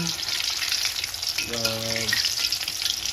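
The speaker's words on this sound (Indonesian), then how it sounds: "Ini bisa kita goreng terus sampai kering atau cukup seperti ini." Sumedang-style tofu skins fry in hot oil with a continuous bright sizzle and crackle, briefly joined by a short tonal squeak from stirring.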